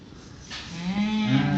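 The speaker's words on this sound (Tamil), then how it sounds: "நல்ல மாடுதானே." A cow on a farm gives a loud, close, drawn-out moo that rises and holds over a low background, a single call with no speech.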